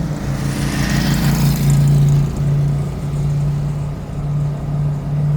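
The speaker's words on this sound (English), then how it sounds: "It's got this shrieking sound, and then I don't know if you guys can hear it, the swoosh of the supercharger" A Mercedes CLK DTM Cabriolet's steady engine drone with a sustained high supercharger whine riding over it and a rushing supercharger swoosh near the start, loud and continuous, with no talking.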